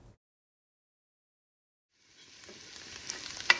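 Sliced onions frying in a pan for egg curry, a soft sizzle that starts after a near-silent gap and grows steadily louder, with a few crackles and a brief stir near the end.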